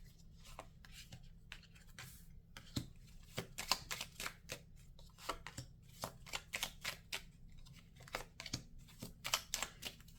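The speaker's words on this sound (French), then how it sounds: "On va mettre 9 cartes." Tarot cards riffle and slap down in repeated short bursts during a general guidance reading, crisp close-up flicks and taps scattered irregularly over a low steady hum, with no talking.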